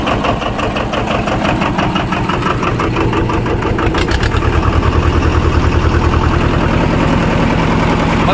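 Mahindra 255 DI two-cylinder tractor engine idling steadily and close up, a loud low rhythmic putter that runs throughout and grows slightly fuller about halfway.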